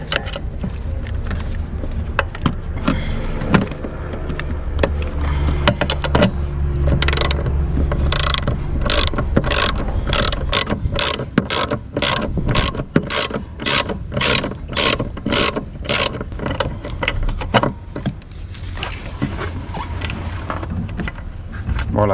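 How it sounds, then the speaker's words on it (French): A ratchet clicks in rapid bursts on the expansion tank screws of a Renault Kangoo, the loud, close ticking starting and stopping in short runs as each screw is loosened. "on va dévisser les deux vis"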